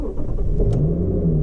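A car engine cranks and catches, wired with a temporary setup of two 4,400 microfarad capacitors to stop the stereo rebooting. It turns over and settles into a steady, rising engine drone, close and loud, with no talking.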